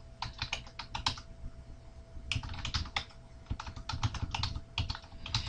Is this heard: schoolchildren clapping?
no